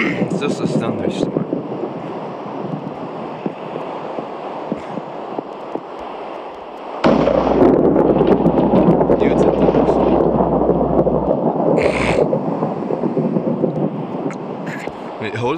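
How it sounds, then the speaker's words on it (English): Thunderstorm in Minecraft: steady rain hiss, then a loud rumbling thunder roll breaks in midway and the downpour grows heavier, with a sharp crack near the end. "it's just a thunderstorm."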